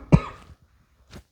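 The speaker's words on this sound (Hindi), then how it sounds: "थोड़ी सी खांसी है" A teacher coughs once, sharp and close, then makes a softer throat-clearing sound after a short pause.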